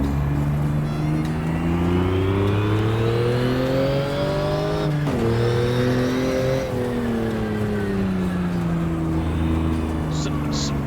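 Porsche flat-six engine in the GTR2 racing game on a PC, a loud steady drone with rising revs, a brief dip around a gear change, then climbing again, continuous throughout.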